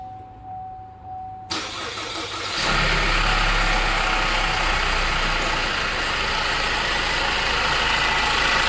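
A car engine starts after a quiet moment and settles into a steady, loud idle with a continuous rattling, clattering texture, suggesting a worn timing chain, with no voices.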